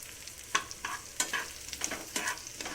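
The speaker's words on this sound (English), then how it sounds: "So I will mix it well with the dals and that 1 red chili." A spoon stirs onions with dals and a red chili in a hot pan, giving soft, irregular scrapes over a faint, steady sizzle, close up and quiet, with no voices.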